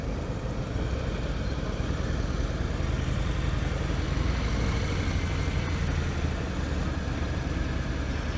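A 2018 Harley-Davidson Breakout motorcycle engine idles at around 800 to 900 RPM, a steady, loud, close rumble that holds an unbroken throb throughout with no voices over it.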